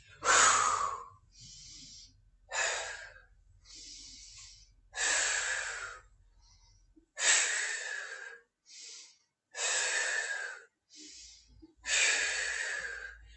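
Slow, deliberate breaths drawn in and pushed out during a yoga sequence, each inhale and exhale a distinct airy rush separated by pauses, close and clear with no talking.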